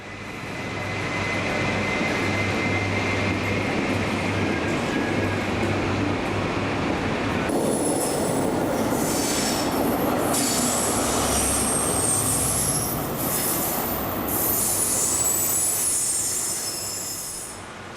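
An HST train with power cars departs for Bristol, a loud sustained rumble of engines and wheels with high-pitched squeals and whines building midway through and continuing to the end.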